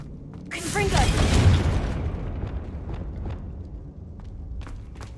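A Confringo fire spell cast in Hogwarts Legacy bursts into a loud, broad blast that peaks early and then decays into a long rumbling tail, with faint crackles trailing off afterward.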